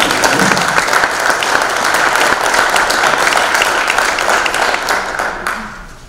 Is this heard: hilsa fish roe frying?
no